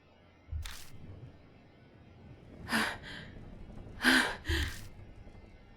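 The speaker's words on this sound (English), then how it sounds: "The only sound left is that of our shaky breathing." Shaky, breathy gasps come from characters hiding in the horror game Spirit Hunter: Death Mark. A few short, airy breaths land in separate clusters against a near-silent background.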